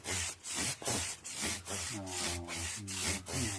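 Sanding of a Squier Stratocaster Affinity guitar body, heard as loud, steady rasping strokes in a repeating back-and-forth rhythm, up close, with a low tonal hum running beneath.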